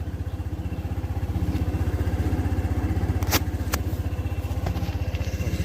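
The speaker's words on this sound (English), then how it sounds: "put the engine on so you could hear what it sounds like" Lexmoto Aura motorcycle engine running after a push-button start, a steady close rapid putter with even rhythm throughout and no talk.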